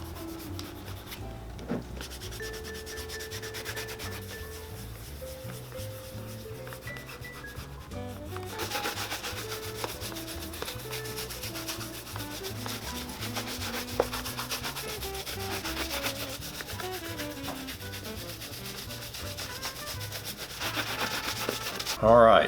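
Pate de Luxe wax is rubbed in light coats onto a Crockett and Jones leather Oxford shoe, a continuous soft scrubbing and squeaking close up.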